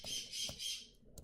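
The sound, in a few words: birds in the background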